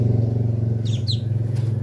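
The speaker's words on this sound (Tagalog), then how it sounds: "Ang ingay ng mga motor." Motorcycles pass on a rural provincial road in a steady, close engine drone with a low rumbling hum, while faint bird chirps cut through briefly.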